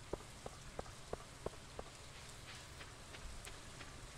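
Rainfall in the farming game Stardew Valley, a quiet even hiss with a short run of rhythmic drip taps early on, then just the soft wash of rain.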